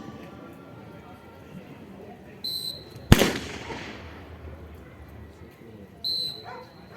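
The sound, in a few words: CISF drill team firing from kneeling and line positions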